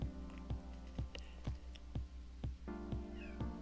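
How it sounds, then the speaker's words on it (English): A pet cat cries with faint meows against a steady, rhythmic background of video game music during Dragon Ball play. "Cat's crying."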